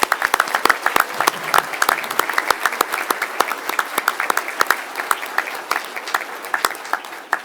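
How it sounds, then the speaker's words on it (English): An audience at a school board meeting breaks into sustained, lively applause for an elementary school's Student of the Month, with dense clapping that continues for several seconds and fades slightly toward the end. "Let's give her a round of applause."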